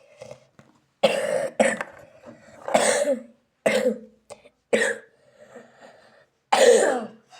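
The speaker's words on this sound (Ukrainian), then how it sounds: "Я трохи прихворіла, тому кашляю." A series of harsh, separate coughs, roughly seven or eight, comes in uneven bursts with short silent gaps between them, close and fairly loud.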